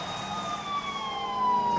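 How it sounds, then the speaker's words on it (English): Police sirens wail steadily in a scene from the 1987 film Raising Arizona, a continuous rising-and-falling tone held at moderate loudness, slightly distant, with no speech. "He can't hear the sirens and doesn't know they were called."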